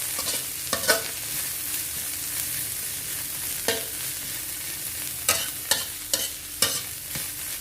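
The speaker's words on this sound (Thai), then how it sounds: "นี้ก็นำกุ้งแห้งของเรามาคั่วต่อเลยนะคะ คั่วให้สุกพร้อมดีเลยค่ะ" Dried shrimp dry-roasting in a pan for a fiery Thai chili paste, a steady close rasp of stirring with scattered scraping strokes and faint crackle, no voices.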